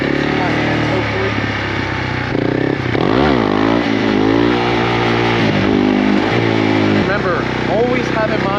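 Motorcycle engine revving hard during a wheelie, the pitch climbing and dropping through several surges of throttle, loud and close with wind noise and no clear speech.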